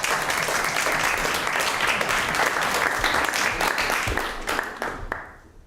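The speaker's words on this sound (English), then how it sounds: "they deserve a round of applause" A classroom audience gives a sustained burst of applause for two students, dense clapping that thins out and fades at the end.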